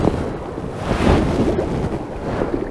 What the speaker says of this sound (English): These waves are getting bigger, aren't they?